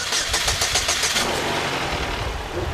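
A Chevrolet HHR or Cobalt engine, after repair for P0700 and P1818 codes, turns over with rapid cranking bursts, then catches and settles into a steady, loud running rumble.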